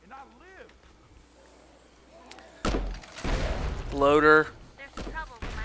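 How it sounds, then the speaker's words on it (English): Grenade launcher shots in State of Decay, fired at a zombie infestation: a heavy booming blast midway and another near the end, amid game noise, with someone speaking between them. "Now a little infestation clearing with a grenade launcher."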